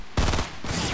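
Gunshots in Fortnite, a sharp loud shot followed by a quick second burst within a single second, close and dry.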